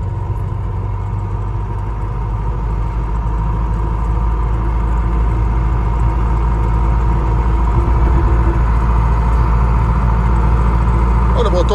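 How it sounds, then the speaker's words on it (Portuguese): A 1987 Ford F1000 pickup with an MWM diesel engine runs at a steady idle, a close, deep, continuous rumble under a person talking. "Olha, o motor dela tá forte"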